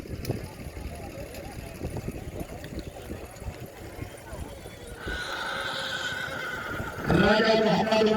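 A horse whinnies loudly and hooves clip-clop at a neza baazi tent-pegging event in Rakha Dhamiyaal, Sohawa, Jhelum, while an announcer calls out over a busy outdoor crowd, the neighing growing louder near the end.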